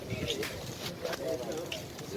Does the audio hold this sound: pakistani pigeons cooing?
yes